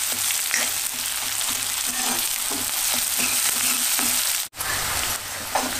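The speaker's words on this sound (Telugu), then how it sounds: "ఇవి కొంచెము దోరగా వేగాలండి" Onion and tempering spices frying in hot oil for sambar, a steady close crackling sizzle with light stirring scrapes, briefly dropping out for a moment before resuming.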